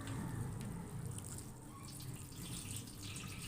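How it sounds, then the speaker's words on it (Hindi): Water pours steadily over cumin seeds held in a basket, a continuous, close splashing rush that runs throughout without pause. "अब मैं इसके अंदर दोबारा से फिर पानी डालूँगी।"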